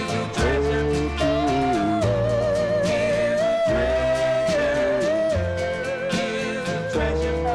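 A 1962 doo-wop record, "Love Is a Treasure" by Goldie Coats and the Blenders, plays steadily with harmonized vocals over a thumping rhythm section and sustained backing, continuous throughout.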